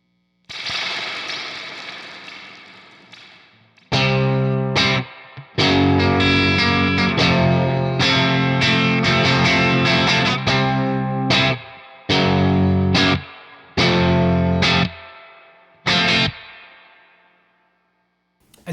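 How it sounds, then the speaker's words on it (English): Electric guitar played through a Badcat Cub V EL34 hand-wired tube amp with its real spring reverb turned up, loud chords ringing with lush splashy reverb tails, broken by brief pauses, no talking. "You could turn it to max and it's just going to create a lush, tube-driven spring reverb thing."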